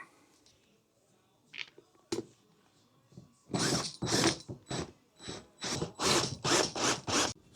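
Bolts being secured on a heavy-duty big and tall office chair give quiet ratcheting and gear-like clicks at first, then louder bursts of rubbing, scraping mechanical turns close by.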